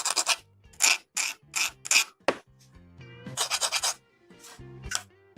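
A file rasping a leftover nub off a plastic part of a 1/144 Bandai Gundam model kit, in several short, close strokes, then a brief lull and a faster flurry of scraping.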